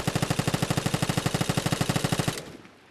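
Rapid full-auto bursts from an L86 rifle in the game Vigor, a fast, even stream of around thirty close, punchy shots that stops abruptly as the magazine empties, followed by a brief tail of quiet.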